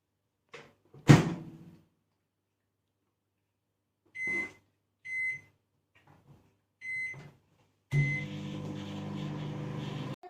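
A microwave oven cooking a chocolate mug cake: a door thud, then several short button beeps spaced apart, followed by the oven starting into a steady, close hum.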